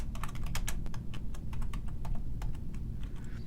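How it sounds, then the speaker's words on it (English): Rapid clicking of keys on a computer keyboard as a chat message is typed, a close, uneven stream of light taps with no talking. "click right here and then type in your message"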